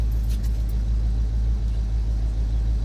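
A 1980 Ford F-350 service truck's engine idles steadily nearby, a low continuous rumble with no revving, running from its own fuel tank.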